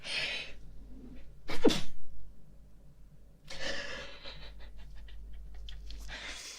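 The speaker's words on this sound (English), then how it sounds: "you have to excuse me, I have to sneeze" A single sharp sneeze bursts out close up, with breathy sniffs and a few soft exhales before and after it.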